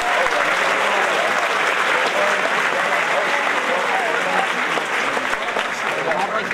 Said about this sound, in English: I want you to give a big round of applause to Ms.